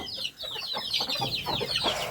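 Chickens on a poultry farm cluck in a quick run of short calls, close and fairly loud, with no talking over them.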